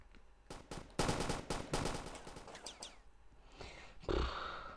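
Bursts of rapid video game gunfire crackle in quick volleys, several rounds each, followed by scattered single shots and a short electronic noise near the end.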